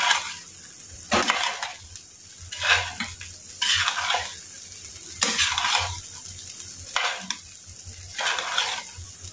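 Mutton frying in a pan, with a steady hiss and rhythmic bursts of stirring about once a second as a spatula scrapes and turns the meat, close and fairly loud.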